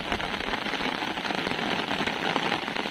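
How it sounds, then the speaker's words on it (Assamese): Rain falls at night over a paddy field with a dense, steady patter that fills the air evenly without pause. "বৰষুণ আহিল"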